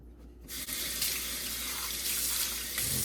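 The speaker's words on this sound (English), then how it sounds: "Okay, rinse it out really good." Tap water running hard into a kitchen sink while washed dishes are rinsed by hand: a faint trickle at first, then a loud steady rush of water with slight splashing, continuing to the end.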